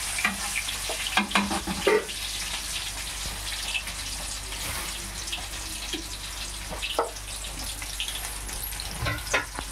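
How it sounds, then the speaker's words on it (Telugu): Onions frying in a pan for a Nellore-style fish curry, with a steady close sizzle broken by a few louder stirring scrapes and clatters. No one speaks. "ఇప్పుడు ఆనియన్స్ కొంచెం ఫ్రై అవ్వాలి."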